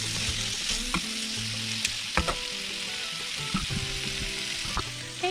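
Chopped smoked sausage and kielbasa fry in butter in a pan, giving a steady close sizzle with occasional sharp pops and clinks of stirring, and no voices.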